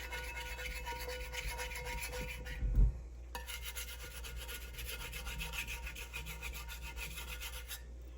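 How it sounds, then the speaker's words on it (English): Scraper rasping across a cast iron pan in steady, close scratching strokes over a low hum, with a short thump near the three-second mark and no talking. "I'm just going to go ahead and use my scraper on those areas."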